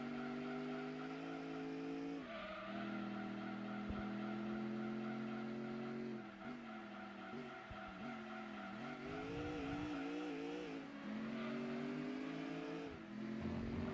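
A racing video game car engine, tuned to imitate a big block V8, revs steadily and thinly with little low end, its pitch rising and falling through gear changes. It plays quietly with no talking.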